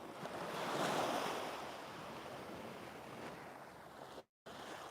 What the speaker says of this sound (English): the sound of the waves sounds so pretty